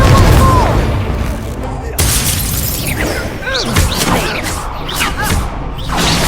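Fire spell Incendio cast during combat in Hogwarts Legacy, a loud whooshing burst followed by crackling blasts and sweeping magical tones, with a voice calling out over the din.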